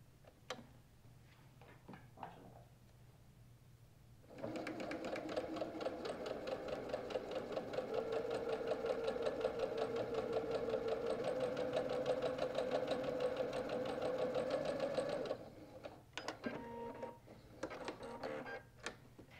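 Sewing machine stitching quilt strips together for a log cabin pillow, a steady fast rhythmic whir and tick running about eleven seconds, close and loud, with quieter handling sounds before and after.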